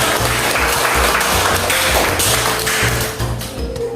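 Students in a geography classroom clap their hands together in a rhythmic, patterned clapping routine, loud and close, with a lively room sound underneath.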